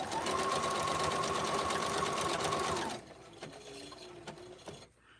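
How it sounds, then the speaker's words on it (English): Sewing machine stitching a serpentine stitch on a rag quilt runs steadily and loud with a fast whirring hum for about three seconds, then stops, leaving faint handling noises. "And I'm just doing the serpentine. They'll all be done with the serpentine stitch."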